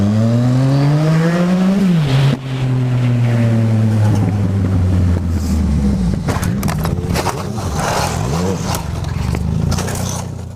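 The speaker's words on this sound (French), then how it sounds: "Bon là comme vous voyez on part d'un feu. Donc oui, je fais une petite accélération" Yamaha MT-09 motorcycle pulling away from a traffic light: the engine revs climb steeply through a gear, drop at a shift, then rise again while accelerating hard, loud and close with strong wind rush building over the engine note.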